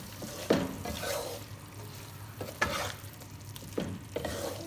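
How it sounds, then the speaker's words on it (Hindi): Cream being stirred into a chicken kabab handi in a pot, with three separate wet, scraping stirs spaced a couple of seconds apart over a soft, steady sizzle. "क्रीम ऐड करने के बाद इसको हम एक दफ़ा इसके अंदर करेंगे मिक्स"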